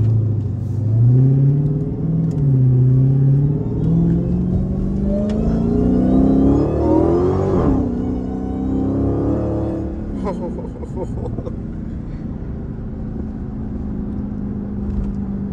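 Dodge Hellcat on a highway, engine note rising and falling as it accelerates through gears, a loud sustained drone from inside the cabin with a brief shift around the middle.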